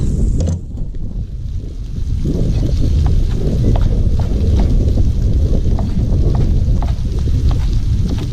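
Strong outdoor wind buffets the microphone in a loud, continuous rumbling roar with gusty swells, heard alone throughout.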